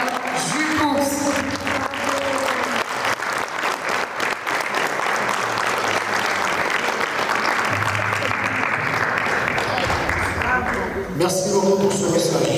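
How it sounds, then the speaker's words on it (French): Audience applauding at a tribute to Gilles Poux by the Comorian diaspora in La Courneuve, a sustained burst of dense clapping lasting several seconds, with speech before it starts and again as it fades. "je vous demande d'applaudir comme il se doit le camarade Gilles Poux."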